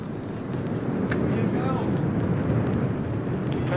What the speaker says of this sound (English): We have main engine start, 0, and liftoff of the Stardust spacecraft